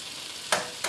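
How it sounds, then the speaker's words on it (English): Eggs fry in a hot pan for buttermilk biscuit breakfast sandwiches, a steady close sizzle broken by two sharp crackling spits near the end. "Let's get some eggs frying."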